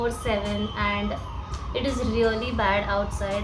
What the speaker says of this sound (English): right now also you can hear there are ambulances going on around